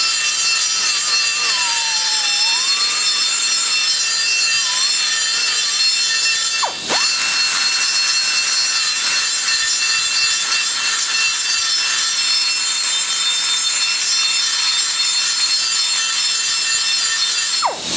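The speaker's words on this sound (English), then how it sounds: "Keep in mind, I'm not cutting the aluminum, I'm cutting the actual iron seat." A cutter grinds against an iron valve seat in an aluminum cylinder head, producing a continuous, close, high scraping rasp with a brief pause midway and no talk.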